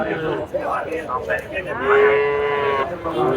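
Several cattle moo over a busy crowd murmur at Dhaper Haat cattle market in Bangladesh, one long low call swelling loudly in the middle, with more lowing layered around it.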